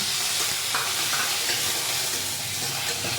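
Potatoes sauté in hot mustard oil, a constant close sizzle and hiss with faint stirring scrapes, loud and unbroken, with no voices.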